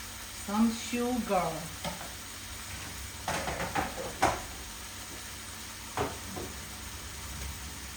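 Ground beef and pork fry over a low flame in a pan, with a soft steady sizzle and several bursts of scraping stirring from a utensil close by.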